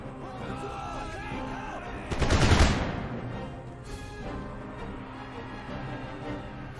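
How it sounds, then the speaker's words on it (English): Janissary musket fire in the Empire: Total War video game, heard as a single heavy, rumbling volley midway that rises above a steady din of battle and then fades. "We lose some cavalrymen to Janissary musket fire at range."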